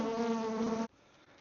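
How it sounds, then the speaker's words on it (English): A Buckfast honey bee buzzes right against a microphone, a loud, close, steady whine that cuts off abruptly after under a second, leaving quiet. "There's a bee in my mic still, but she's just checking it out."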